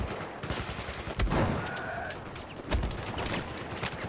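Shotgun blasts in Battlefield 4 on the Noshahr Canals map, with two heavy booming shots standing out over a busy backdrop of scattered distant gunfire.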